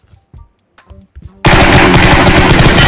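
Loud, continuous automatic gunfire from PUBG Mobile erupts abruptly after a stretch of quiet, sparse sounds and keeps firing as a dense, sustained burst to the end.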